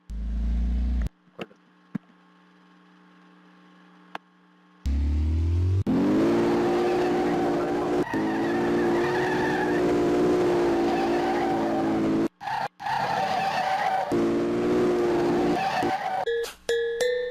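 A Volkswagen Gol GTI being restored starts with a few cranking bursts and brief silences, then its engine revs hard with a rising, strained tone for several seconds, cutting out and catching again before dying.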